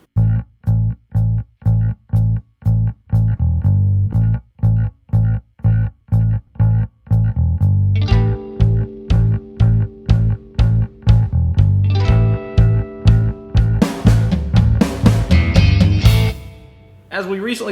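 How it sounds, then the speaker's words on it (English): A repeating, punchy bass guitar riff with steady rhythmic plucked notes; drums and other instruments join in partway, building to a fuller groove. "the awesome and simple bass riff that starts the tune out"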